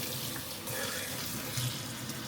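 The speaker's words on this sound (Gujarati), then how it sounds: "પાણીથી ધોઈ કાઢીએ અને પછી આપણે એમાં આઈસ ક્યુબ બનાવવા માટે પાણી નાખવાનું છે." Tap water runs steadily over a plastic ice cube tray as it is rinsed in a sink, a continuous close splashing rush with no voices.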